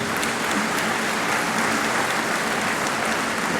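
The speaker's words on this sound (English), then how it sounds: "Don't clap for that." Dense, steady audience applause fills a lecture hall, continuous and evenly loud with no talking over it.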